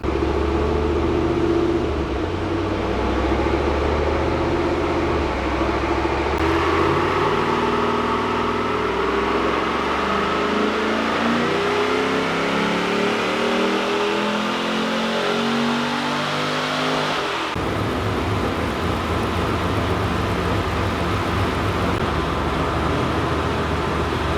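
An LS V8 engine fitted in a Nissan GQ Patrol with a 6L80e automatic pulls hard on a power run, a loud continuous drone rising in pitch through successive gear changes, then settling at a lower, steady roar.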